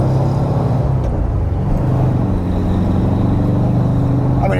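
An air-cooled engine in a 1971 VW Bus runs loud and close, with a steady low rumble that holds through the whole stretch and rises slightly near the end, with no one talking over it.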